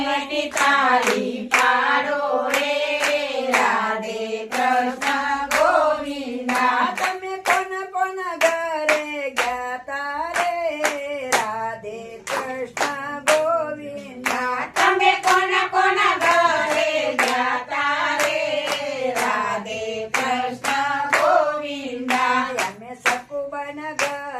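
Hands clap in steady rhythm along with a sung Radhe Krishna Govinda devotional chant, sharp regular claps under a melodic singing voice throughout.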